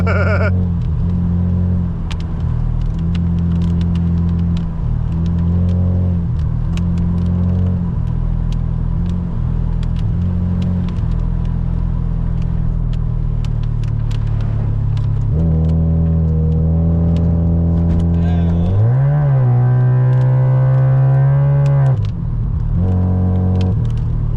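A Mazda RX-7 FC3S climbs a mountain road at night, its engine droning loud and close throughout, with repeated revs and pitch rises through shifts and a sharp acceleration toward the end.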